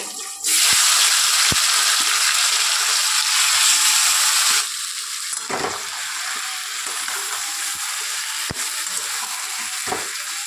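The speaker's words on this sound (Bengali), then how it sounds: "তেলটা গরম হয়ে গেছে, আমি ফোড়নের জন্য দিয়ে দেব গোটা গরম মশলা, একটা শুকনো লঙ্কা আর দুটো তেজপাতা।" Marinated mutton and whole garam masala, a dried red chilli and bay leaves hit hot oil for a Hyderabadi mutton biryani, bursting into a loud, close sizzle that later settles into a steadier frying hiss with occasional clinks and stirring.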